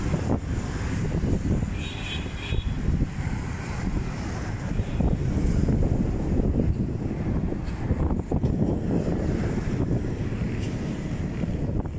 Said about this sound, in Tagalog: Naririnig nyo guys yung ugong ng hangin, malakas.